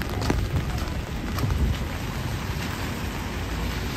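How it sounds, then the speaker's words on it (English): Rain falls steadily in Midtown Manhattan during a thunderstorm, a dense continuous hiss of drops on street and surfaces, fairly close, with a few sharper splashes near the start and no voices. "The rain is picking up again."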